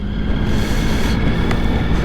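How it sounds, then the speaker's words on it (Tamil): Strong wind buffets the microphone while riding a motorcycle through the Engadin near St. Moritz, Switzerland, a steady loud low rumble filling the whole moment with no one speaking. "நல்ல காற்று"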